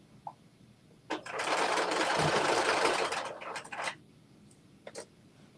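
Sewing machine stitching around a garment facing, one continuous run of about three seconds preceded by short bursts and followed by brief stops and starts, close and fairly loud with no talking.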